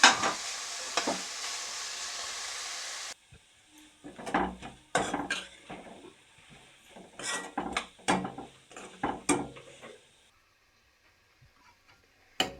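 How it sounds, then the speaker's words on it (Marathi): Onion and tomato fry in a pan for hotel-style paneer tikka masala, with a steady sizzle at first, then a run of scraping stirs and ticking clatter at close range and no talking. "मग आता ही कांदा टोमॅटो भाजून घेते व्यवस्थित चांगलं"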